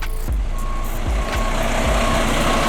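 A truck reverses with its backup alarm beeping steadily in a regular rhythm over a loud, rumbling diesel engine, recorded close by outdoors during a load onto a flatbed deck.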